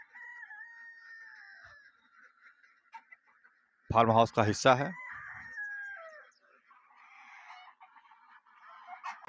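Chickens, roosters and geese on a Hindi-speaking organic farm's poultry section, with a burst of loud honking and clucking cutting in over otherwise faint background bird chatter while someone talks throughout.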